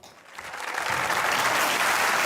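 A studio audience at a comedy show breaks into applause, rising from scattered claps into a dense, sustained wash of clapping that stays loud to the end.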